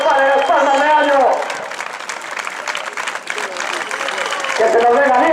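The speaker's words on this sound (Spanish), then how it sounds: "Que no paren las palmas, que no paren las palmas" A crowd claps along at the XXXII Carreira popular in Meaño, a running race, with a dense burst of clapping in the middle and an announcer's amplified voice at the start and end.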